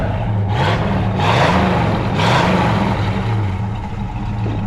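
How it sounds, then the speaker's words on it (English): A 1970 Pontiac Firebird with a numbers-matching 400 engine rumbles steadily through its dual exhaust, close and loud, with three rising revs that swell and fade over a constant low idle. "we'll go around to the back and see how that dual exhaust sounds"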